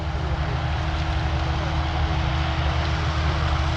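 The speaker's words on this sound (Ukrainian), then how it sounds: "ось тракторець їде вечеря тільки" A tractor drives by in the evening on a farm during the 2023 sunflower harvest, its steady low diesel drone and broadband engine noise holding constant throughout, fairly loud and close, with no talk.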